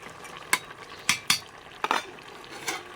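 Spinach curry being stirred in a pan with a spoon, giving a few sharp scraping clinks spaced across a quiet background with a faint simmering sizzle.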